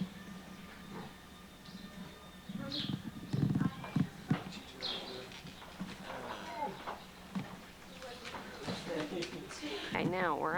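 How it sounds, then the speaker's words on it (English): Horses on a home farm clop their hooves in uneven steps, with a snort and a whinny near the end, while people talk nearby. "Okay, now we're out with the horses."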